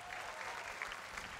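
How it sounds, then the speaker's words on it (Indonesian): A crowd applauds for Edison, a brief burst of dense, steady clapping heard at a moderate distance and fairly faint. "Boleh tepuk tangan untuk Edison"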